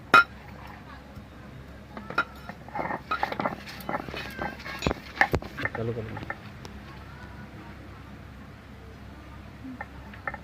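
Prawn heads being ground on a stone slab (shil), with a rough rhythmic grinding and scraping mixed with small knocks, close and moderate, fading to quiet near the end.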